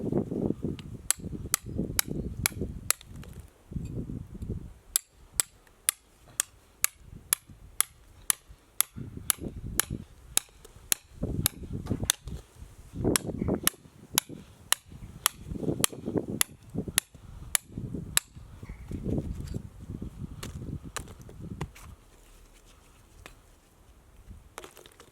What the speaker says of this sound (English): Let me get a hammer and I'll show you.